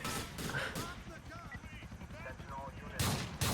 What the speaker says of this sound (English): now take a shotgun and shoot twice